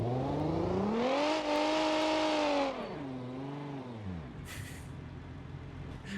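An upgraded six-cylinder engine in a space car video game revs up in a rising, sustained whine, holds high, then drops and dips again before a short hiss, loud and close with no voices.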